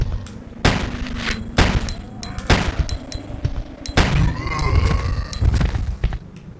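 Gunfire in the Resident Evil 2 video game: a run of sharp, loud shots and booming blasts in irregular bursts, some quick successive, over game ambience.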